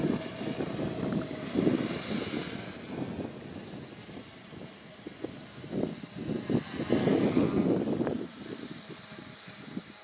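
A QuadLugs quadcopter drone's propellers whir and buzz outdoors, rising and falling in surges as throttle changes, with a faint high-pitched motor whine running throughout and no speech.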